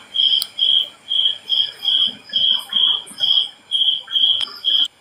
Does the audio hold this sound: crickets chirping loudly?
yes